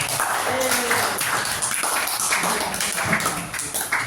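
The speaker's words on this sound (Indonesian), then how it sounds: "Sudah mengikuti pembelajaran dengan baik, tepuk tangan buat diri kalian." A classroom of students claps for themselves after a lesson, a steady dense patter of many hands filling the room, with a teacher's voice speaking over the start.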